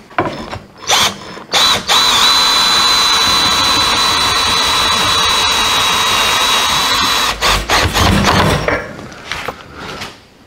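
Power drill whirs continuously for several seconds, close and loud, backing out the screws that hold an RV refrigerator cooling unit, with short bursts before and after the long run.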